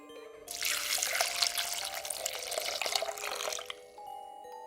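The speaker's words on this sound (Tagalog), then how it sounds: "Binuhusan ni Ricardo ng banal na tubig ang buntot pagi na hawak ni Lisa." Holy water poured out in a steady stream and splashing, a bright continuous rush of liquid running for a few seconds before tapering off, heard alone with no talk.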